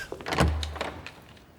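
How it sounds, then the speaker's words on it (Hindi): A heavy palace door in a historical drama setting is opened, a low thud followed by a brief creaking rumble, close and fairly loud, then fading quietly. "दरवाजा खोलो फर्जंद"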